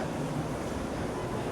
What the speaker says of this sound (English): And then the wind started